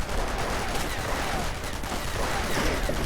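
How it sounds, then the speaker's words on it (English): Submachine guns and rifles trade fire in Company of Heroes with the EF Mod, a dense, continuous crackle of overlapping shots with no pause, loud and steady throughout. "Submachine guns and rifles firing at each other"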